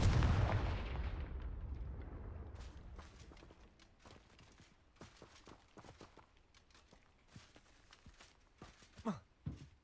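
Spells are cast in a Harry Potter video game: a heavy booming blast opens, then fades into a run of sharp crackling and popping hits with light footsteps in the background.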